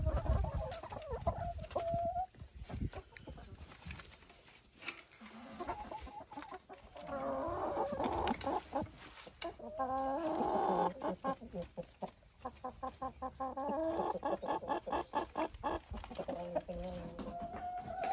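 A flock of chickens clucks and chatters continuously at close range, with overlapping calls and fluttering activity throughout.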